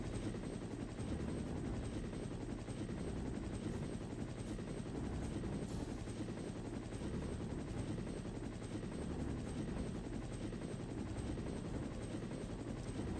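A helicopter in the video game Resident Evil: Containment gives off a constant loud rotor roar that fills the whole stretch without pause, with a dense broadband thrum and no voices.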